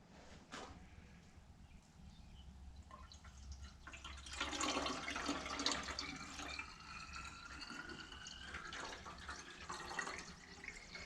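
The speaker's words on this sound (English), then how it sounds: "So now we have water to add." Water pours and splashes into a car radiator, a steady trickling stream that grows louder midway and continues gurgling to the end.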